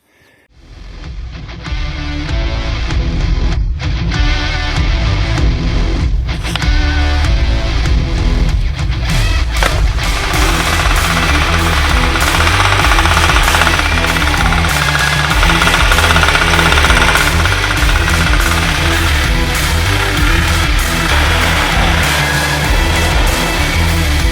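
A Kentavr walk-behind tractor engine runs steadily and loudly for the whole stretch, a rough knocking single-cylinder chug that starts up from quiet and holds close with no speech.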